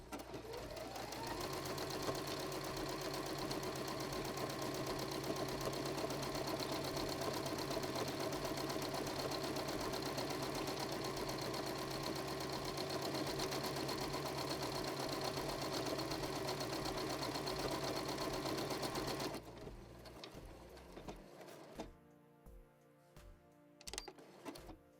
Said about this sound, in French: on laisse faire la machine à coudre, elle se débrouille toute seule de A à Z